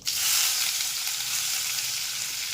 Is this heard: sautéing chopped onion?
yes